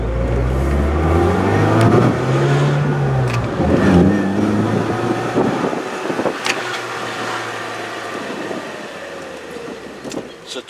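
A small Fiat car engine pulling away and accelerating on a summer drive, a loud close rumble whose pitch rises through the gears, then easing to a quieter cruise with a few clicks and knocks.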